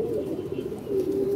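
A pigeon coos steadily in a low, rumbling drone, with a second swell of cooing near the end, close by and with no talk over it.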